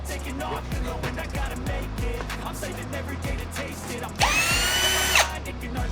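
A power tool drills and spins studs out of a 1000HP engine block in a workshop, steady whirring with clicks and knocks and a sharp high-pitched whine near the end.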